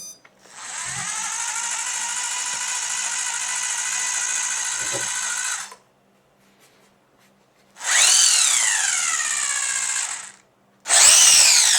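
A four-wheel-drive toy RC car's electric motor whines at a high pitch in three bursts. The first is long and steady, the second rises and falls, and the last is short, with quiet gaps between them.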